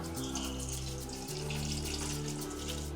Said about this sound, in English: Add water to properly cook